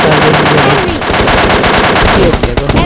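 Rapid MK machine-gun fire in a rooftop firefight in a Free Fire–style battle-royale game, loud and close in quick repeated bursts, with a voice speaking faintly underneath.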